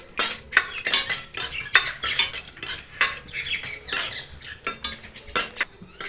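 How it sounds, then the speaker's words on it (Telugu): Almonds and cashews stirred in ghee in a pan, heard as busy metallic scraping and clinking of a spoon against the pan in quick irregular strokes over a faint sizzle, close up with no talking. "జీడిపప్పు ఫ్రై చేసుకోవాలి."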